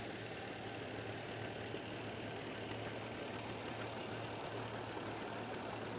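A John Deere tractor idles steadily in a small-town watermelon festival parade, a low continuous engine rumble heard from a moderate distance, even and unbroken throughout with no voices.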